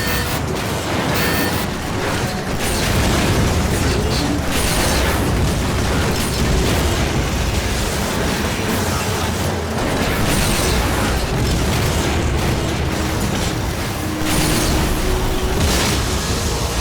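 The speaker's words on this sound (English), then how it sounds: "many attacks result in explosions" Explosions from attacks in the snowy sci-fi shooter Lost Planet: Extreme Condition rumble in a dense, continuous barrage of booms, bursts and mechanical clatter, loud and sustained throughout with no speech.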